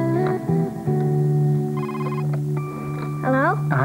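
A telephone rings in an early 1990s British TV advert, its repeated bell tones sounding under and between voices that talk over the ringing throughout.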